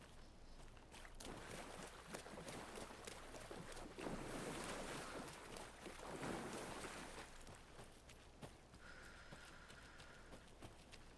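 Water in the horror video game Alan Wake II, heard as a steady, faint wash of rushing, sloshing water mixed with wind-like noise and no voices.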